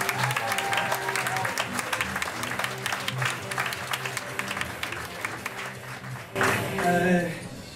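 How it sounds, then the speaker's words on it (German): An audience at a poetry slam bursts into sustained, even applause to welcome a performer to the microphone, with the clapping cutting off abruptly near the end as a brief louder sound takes over. "Bitte klatscht ihn an dieses Mikrofon."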